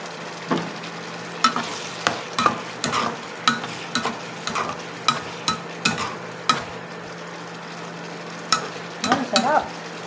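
Sardines and egg fry in a pan with a splash of soy sauce, a steady close sizzle under regular clacking taps of a utensil stirring and scraping the pan, with no talking.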